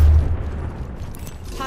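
Frag grenade explosion in Apex Legends, one deep heavy boom at the start that fades into a low rumbling tail.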